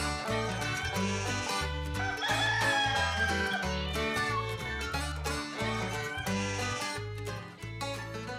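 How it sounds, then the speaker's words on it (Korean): Free-ranging chickens on a farm in Jindo, South Jeolla, crow loudly and cluck nearby in a busy, overlapping chorus that carries on throughout. "저 닭들이 뭐 하는 거예요?"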